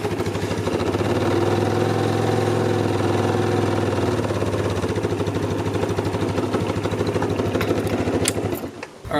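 A cheap $500 motor scooter engine runs near the microphone with a steady rattling idle and low throbbing hum, then cuts off sharply near the end with no voices.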